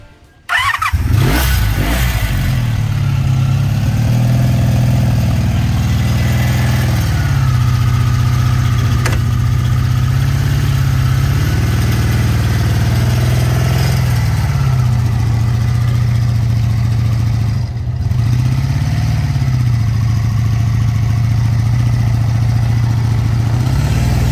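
A Honda V65 Magna VF1100C motorcycle's V4 engine runs continuously and loud up close, its deep steady drone rising and dipping with throttle changes and one short drop midway.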